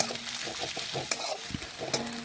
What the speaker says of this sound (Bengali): আর একটু আমি ভেজে নিচ্ছি লাল লাল করে